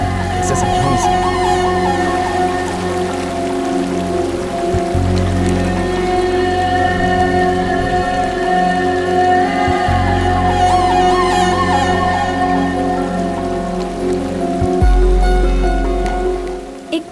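Steady rain falls throughout a Hindi dubbed horror movie scene, a dense continuous hiss with a constant low rumble and no pauses, while a music score plays underneath.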